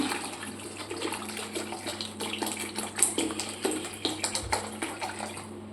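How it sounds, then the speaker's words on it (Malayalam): Vinegar pours continuously into a pot of beef pickle with a steady splashing gurgle, close up and moderately loud, with a few faint clinks. "ഇത് 1 ലിറ്റർ വിനാഗിരിയാണ്, അത് ഒഴിച്ച് കൊടുക്കാം നമുക്ക്."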